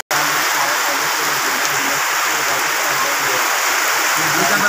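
Heavy rain falling on a street, a loud, dense and continuous rushing hiss that starts abruptly and holds steady, close by.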